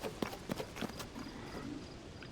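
Several horse hoof clops in Zelda: Tears of the Kingdom sound in a short uneven run early on, then fade into a soft, steady background hum.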